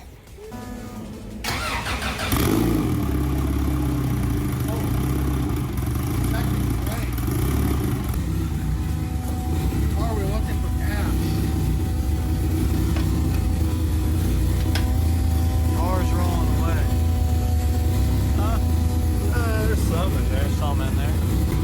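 A turbocharged Honda Integra GSR engine fires up and settles into a loud, steady idle with a deep rumble and whistling overtones, running continuously close by while people talk over it.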